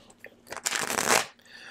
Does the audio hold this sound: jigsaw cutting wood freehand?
no